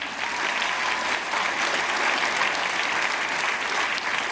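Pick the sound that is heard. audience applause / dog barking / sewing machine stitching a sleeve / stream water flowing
audience applause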